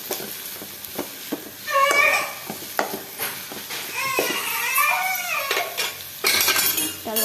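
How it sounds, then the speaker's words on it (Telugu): Grated coconut powder is stirred into bitter gourd curry in a pan, with repeated clinks and scrapes of a metal spoon against the pan, close by, and a few squeaky tonal sounds mixed in. "ఇలా మగ్గిన తర్వాత ఇందులోకి తురిమి పెట్టుకున్న కొబ్బరి పొడిని యాడ్ చేసుకోవాలి"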